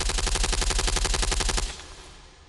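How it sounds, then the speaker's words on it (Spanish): A powerful burst of automatic gunfire strikes an SAS soldier during a mission: rapid, evenly spaced shots hammer loudly for under two seconds, then cut off into a fading echo. "un soldado del SAS es alcanzado por una potente ráfaga de disparos"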